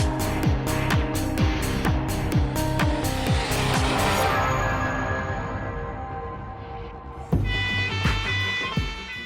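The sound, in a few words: stolen car chased by police, tyres squealing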